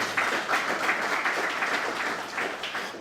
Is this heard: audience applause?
yes